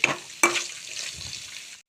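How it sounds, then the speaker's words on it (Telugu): Ridge gourd pieces frying in hot tempering oil for a chutney give a soft sizzle with a sharp clatter as they drop into the pan, then a steady frying hiss that fades out quickly. "ఇప్పుడు వీటిని బాగా వేయించుకుందాం."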